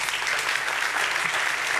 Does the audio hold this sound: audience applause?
yes